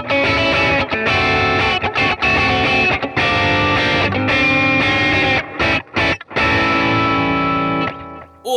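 Electric guitar run through the Positive Grid Bias FX 2 blues preset strums a chord progression, loud and sustained with a slightly dirty edge, a few brief choked gaps between strummed chords, no voices.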